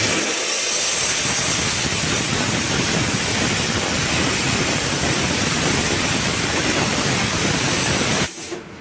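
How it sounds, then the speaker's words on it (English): A steam cleaner nozzle blasts a jewellery ring in a goldsmith's workshop, giving a loud, steady hiss that runs unbroken for about eight seconds before cutting off abruptly near the end. "And we'll go ahead and steam the ring."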